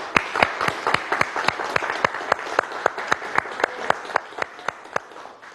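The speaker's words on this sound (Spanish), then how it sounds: "le enviamos a ustedes, todo el equipo de Cayendo y Corriendo, un aplauso para ese pueblo reunido ahí en el Teresa Carreño" An audience at the Teresa Carreño theatre applauds in a steady, rhythmic unison clap, about four sharp claps per second, moderately loud and even throughout.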